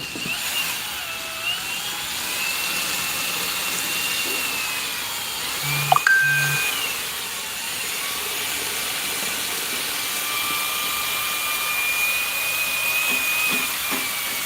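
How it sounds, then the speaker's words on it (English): A KitchenAid stand mixer beats meringue for a cloud cake, giving a steady, even motor whir with a faint hiss throughout, broken by one brief clunk about midway. "I think it's supposed to be for the KitchenAid mixer."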